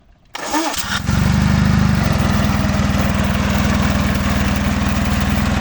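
A mini tractor's engine runs steadily in top, fourth speed with its power take-off engaged, a loud continuous drone after a brief start-up rise, close by and alone.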